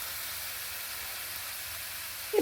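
Chopped capsicum and onion sauté in a pan for vermicelli pulav, giving a soft, steady sizzling hiss that stays low and even throughout, with a small clink right at the end.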